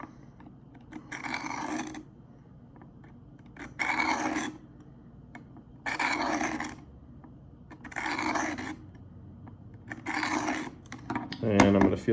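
Knife blade stroked across a Work Sharp field sharpener, five bright rasping scrapes in an even rhythm with quiet gaps between, close and crisp, ending with a faint voice.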